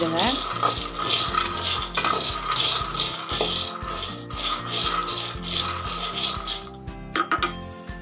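Peanuts dry-roasting in a pan over a low flame, stirred steadily with a spoon that scrapes and clinks against the metal in a repeating rhythm, close and alone with no talk.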